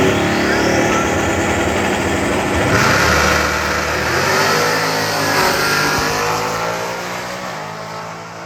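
Loud, close engines roar and rev hard as street cars, including a Camaro, launch at a drag race, the high-pitched whine rising and then fading slightly toward the end.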